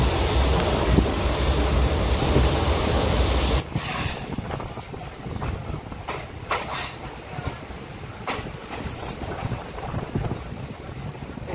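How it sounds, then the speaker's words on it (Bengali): A train pulling into New Changrabandha station in the Dooars, with heavy broadband rumble and wheel noise that drops sharply after a few seconds as it slows, then lighter clanks and rattles continue up close. "এই যে আমাদের ট্রেন পৌঁছে গেল নিউ চাংড়া বান্ধায়।"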